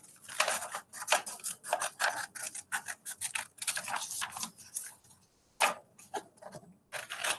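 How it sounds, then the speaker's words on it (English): Scissors cutting a paper rectangle out for a classroom timeline: close, crisp snipping in quick irregular bursts with short pauses, alone without talk. "I'm going to cut that rectangle out."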